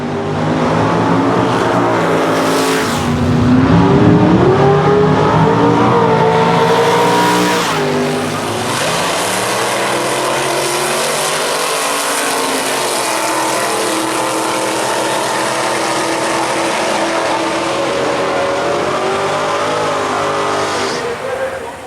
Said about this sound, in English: let's take a look at some of the other Gassers making a time run.